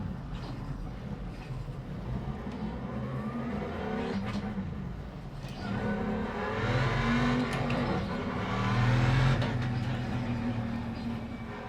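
Engine of a car in a racing video game played on a direct drive wheel, revving and climbing in pitch through gear changes, loud and sustained for the whole stretch with no one talking.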